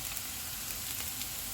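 Onion, garlic and ginger frying in hot oil for aloo kofta curry make a steady, dense sizzle that stays fairly quiet and even throughout.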